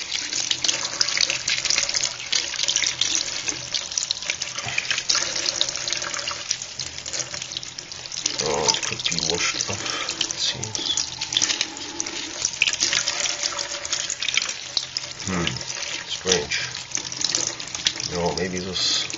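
Tap water runs steadily into a sink during a graphite-paper and aluminium foil battery experiment, a continuous splashing hiss with brief clatters partway through.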